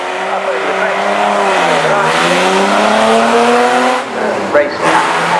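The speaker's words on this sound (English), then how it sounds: "This the Julian Draper driven Aston Martin Project 214 or 214 if it were a Porsche" A 1963 Aston Martin Project 214 prototype race car, based on the DB4 GT, passes at a festival of speed. Its loud engine note rises and falls with gear changes, then fades as it moves on. A voice is faintly heard.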